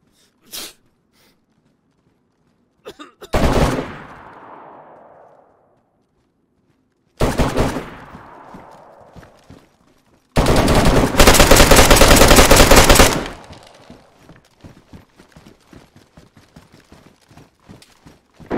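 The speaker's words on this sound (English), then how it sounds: "Sniper. Someone's sniping." Sniper rifle gunfire in the DayZ video game: sharp loud shots ring out in separate bursts, one long sustained volley in the middle, each shot followed by a decaying echo, with quieter rustling and footsteps between them.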